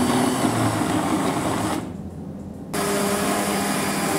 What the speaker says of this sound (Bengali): এবার ব্লেন্ড করে নেওয়ার পালা।